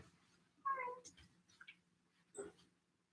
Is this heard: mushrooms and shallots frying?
no